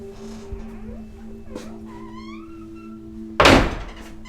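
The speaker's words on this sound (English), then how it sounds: "The doors are so loud." A heavy door slams in a haunted scare attraction, one loud, sharp bang near the end after a quiet steady hum and a faint creak.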